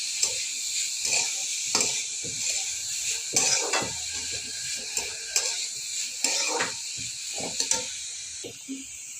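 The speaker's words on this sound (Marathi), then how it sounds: "मग आपण भिंगवून घेतलेलं मिश्रण कोबीमध्ये असं मिक्स करायचं." A spice mixture being stirred into cabbage in a pan, heard as scraping and clinking strokes of a spoon against the pan at an irregular rhythm over a steady, hissing sizzle.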